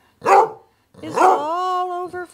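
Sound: dog howling

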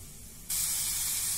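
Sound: onion frying in a pan

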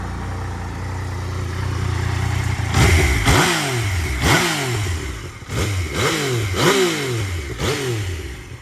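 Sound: motorcycle engine running

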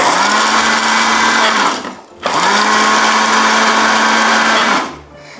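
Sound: blender blending chili peppers

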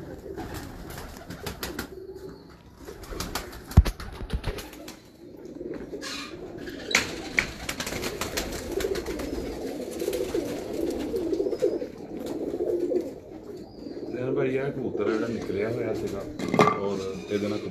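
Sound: champion pigeons cooing

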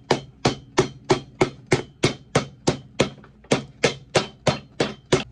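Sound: hammering a midsole onto a boot

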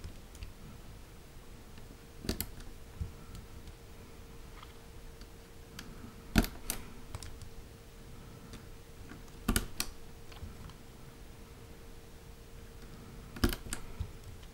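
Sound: testing lubed KBDFans T1 mechanical keyboard switches by typing

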